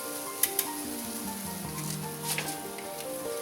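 Shrimp sizzle on a grill with a steady crackling hiss, close up, broken by a few sharp pops and clinks.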